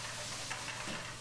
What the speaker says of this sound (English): fry them, stirring frequently on some olive oil